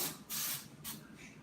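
Baking spray with flour hisses from a can into a glass baking dish in two close, loud bursts, with a softer third spurt trailing off.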